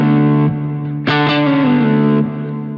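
Distorted electric guitar lick closing the bridge of a song, heavy with effects: sustained notes, a quick picked flurry and a sliding bend, loud and close with no voices.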